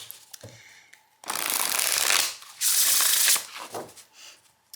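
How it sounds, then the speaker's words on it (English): A Kai Love Tarot deck gets riffled and shuffled in two loud bursts of rapid card flutter, followed by softer shuffling, handling and taps, close by with no talking. "that was a really bad shuffle"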